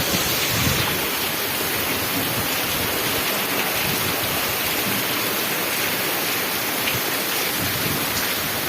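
Heavy monsoon rain in Kutch, Gujarat, pours down in a dense, continuous roar, with no voices, steady throughout.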